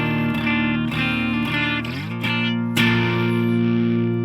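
An electric guitar played through a homemade FRED distortion pedal, full bridge pickup with the guitar volume turned low, rings out in sustained, buzzy distorted chords that shift pitch a few times, loud and close with no talking.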